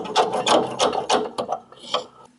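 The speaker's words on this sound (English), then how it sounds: "using this pair of extra long needle nose pliers under the clip to kind of pry it up" Needle nose pliers and a screwdriver working a brake line clip loose on a Chevy Tahoe, Suburban or GMC Yukon, producing close, rhythmic scraping and rasping strokes that end in a few lighter clicks.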